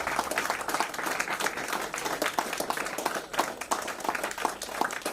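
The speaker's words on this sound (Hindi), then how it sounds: "आप जितने साथी यहाँ उपस्थित हैं, तालियों में कोई कमी नहीं होनी चाहिए" Dense, steady applause from a large audience at an anniversary gathering, many hands clapping at close range with no break from start to end.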